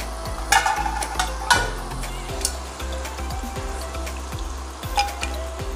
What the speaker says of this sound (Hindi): पतासे हम कच्ची घानी के तेल में तल रहे हैं